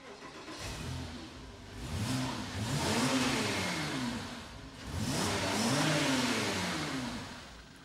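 A car engine revs twice in two loud, rising and falling bursts, climbing to a roar and then settling back, with a short quieter gap between them.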